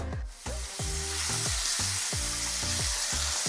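Olive oil sizzles and spits in hot pans while onions, cheese and sausage fry, a loud steady crackle with rhythmic thumps of stirring or tapping utensils and no talk.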